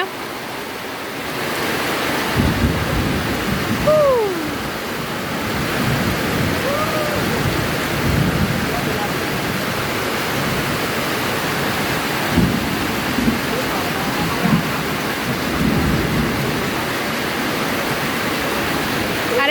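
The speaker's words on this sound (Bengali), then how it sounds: "এত জোরে হঠাৎ বৃষ্টি চলে আসছে দেখুন" Sudden heavy rain pours beside a waterfall in Malaysia as a barbecue is under way, making a loud, steady broadband roar through the whole stretch, with faint rumbles and brief voice-like sounds mixed in.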